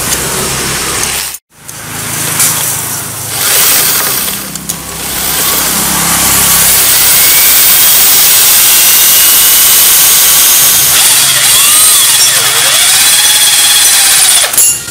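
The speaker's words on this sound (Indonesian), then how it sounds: "Oke bro, kita bor aja." A power drill whines loudly and steadily while boring out a seized part on a motorcycle, close up, with pitch dips as the bit loads and eases.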